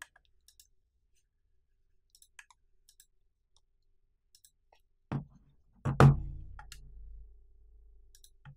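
Computer mouse clicks while adjusting PCSX2 emulator controller settings on Windows: a few faint scattered ticks, then a couple of louder close clicks near the end.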